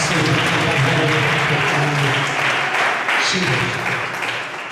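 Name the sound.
congregation applauding at a church congress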